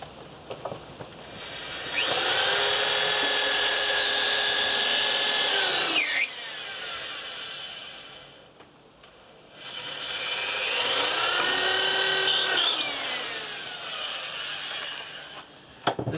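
Two long bursts of a power drill whirring steadily at high speed during a camper van build, each winding down at the end, separated by a short quiet pause.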